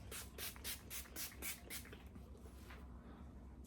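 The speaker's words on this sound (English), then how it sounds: "Why don't we spray these biatches on right now while we're talking?" Hair tonic and a serum oil mist sprayed from pump bottles in a rapid series of about seven short, hissing bursts, close and fairly quiet, ending in a few fainter sprays.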